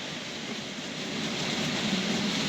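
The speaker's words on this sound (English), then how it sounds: "we'll shove it on the track at the end and see how it goes with our locomotive pulling it" A model railway locomotive hauls a Fleischmann coach along the track, giving a steady, close running whir with a faint rhythmic rail rumble throughout.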